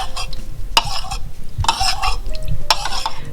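Soy sauce and oyster sauce being mixed for General Tso chicken: a few loud utensil knocks and scrapes against a bowl or pan, close up, with a faint background hum and no talk.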